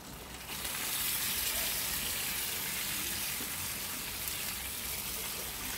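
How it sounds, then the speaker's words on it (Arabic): Tomatoes poured over kefta frying in a tajine, giving a steady, loud hiss and sizzle that rises sharply after a brief quieter start and holds evenly to the end, with no talk over it. "دابا نكبو عليهم الماطيشه"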